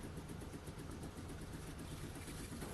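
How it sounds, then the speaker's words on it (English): A water pump fitted inline in a workshop runs with a steady, continuous mechanical drone and rapid pulsing throb, faint and unchanging throughout, with no voices. "So you hear the pump going,"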